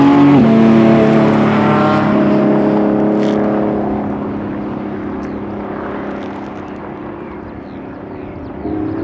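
A Lamborghini Revuelto and a Ferrari SF90 drag racing on a strip, a loud engine roar with rising harmonic tones that gradually fades as the cars pull away into the distance.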